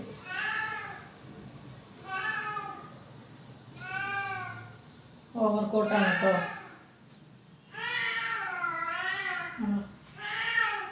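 A cat meows repeatedly, with six or seven drawn-out, rising and falling cries spaced a second or two apart, close and clear, while someone talks briefly in between.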